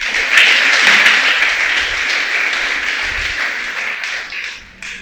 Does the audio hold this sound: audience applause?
yes